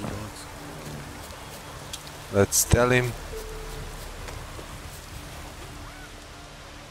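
Steady rain falls in The Witcher 3: Wild Hunt, a soft continuous patter beneath the scene, while a character speaks briefly over it partway through.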